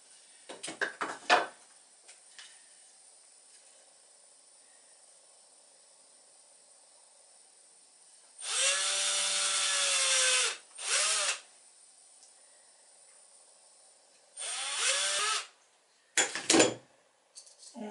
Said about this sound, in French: on a pris un même clou en laiton qu'on a mis sur la perceuse ici et puis on va faire des petits trous